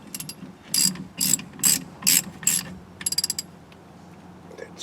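A ratchet clicks in five bursts, loud and close, as caliper bolts are tightened on a 2002 GMC Sierra's rear brakes, then a quick run of rapid clicks and a few faint taps.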